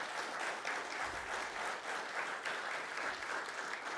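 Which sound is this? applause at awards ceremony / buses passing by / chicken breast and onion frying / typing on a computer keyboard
applause at awards ceremony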